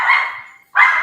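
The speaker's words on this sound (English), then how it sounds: "somebody's dog didn't like that either" A dog gives two loud, close barks separated by a short pause, each a sharp yelping bark with no talk over it.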